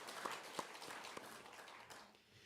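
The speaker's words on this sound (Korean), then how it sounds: "함께 영광의 박수를 올려드리겠습니다." A Korean church congregation at a Sunday daytime service gives brief, faint applause, scattered claps fading out after a couple of seconds.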